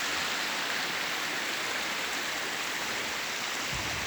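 Huai Chan waterfall, running with fairly low water, fills the air with a steady, dense rush of falling water that stays even and close throughout, with no voices.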